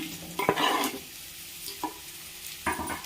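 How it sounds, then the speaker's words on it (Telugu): Onions frying in hot oil for a simple chicken curry, a soft steady sizzle with a few louder stirring bursts of spatula against the pan, heard alone without talk. "ఆయిల్ వేడెక్కిన తర్వాత ఉల్లిపాయలు వేసుకున్నాను"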